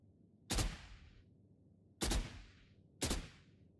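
Three sharp rifle shots crack out separately against a quiet background, each with a short trailing echo.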